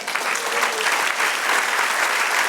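Church congregation applauding the Lord during a sermon: many hands clapping in a full, continuous roar that stays strong and even throughout.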